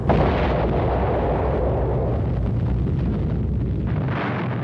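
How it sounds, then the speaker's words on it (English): The Fat Man plutonium atomic bomb explodes over the port of Nagasaki, heard as a loud, sustained roaring rumble that fills every moment without pause or any voice. "Fat Man was dropped on the major military port of Nagasaki"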